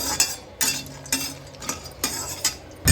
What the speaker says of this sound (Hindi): ये हमारा व्रत वाला काजू, इसको हल्का सा रोस्ट करेंगे।